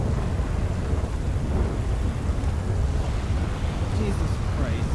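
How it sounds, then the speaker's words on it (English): A fierce thunderstorm with driving rain, faced from a vehicle with no windshield, roars as a heavy, continuous wash of rain noise over deep rumbling thunder, loud and unbroken throughout. "this isn't rain, this is a fucking horrible storm"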